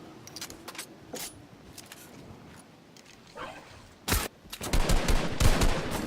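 Gunfire in a battle royale duo arena match, scattered faint shots early, then a sharp loud shot followed by a rapid close burst of firing near the end.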